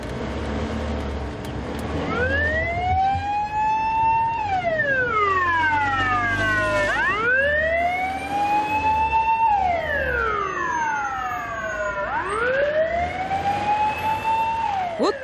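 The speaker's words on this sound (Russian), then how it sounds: "проехалась по дорогам областной столицы в машине со спецсигналом вместе с экипажем скорой" A GAZelle ambulance van's siren wails loud and close, sweeping up and down in long repeated cycles over the rumble of road traffic on Samara city streets.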